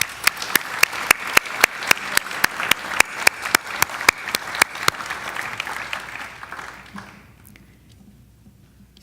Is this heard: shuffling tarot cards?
no